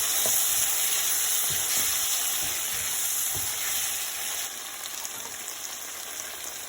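Chilli chicken coated in ketchup and soy sauce fries in a pan with a loud, dense, continuous sizzle and faint stirring knocks underneath, close and steady throughout.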